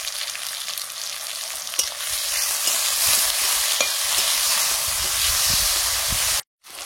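Chopped tomato and green chili frying in a hot pan, a loud continuous sizzle with scraping stirs and occasional clacks of the spoon, cutting off briefly near the end.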